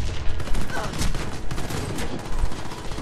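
A Saiga bullpup shotgun in a shooter game fires rapid, loud bursts of blasts that overlap densely across the whole stretch, with a shouting voice faintly mixed underneath.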